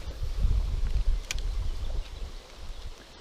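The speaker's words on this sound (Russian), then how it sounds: "Поднимается ветер, неудобно делать забросы." Wind rising by a small river buffets the microphone in low, uneven rumbling gusts, loudest early on and easing toward the end, with one brief sharp click in the middle.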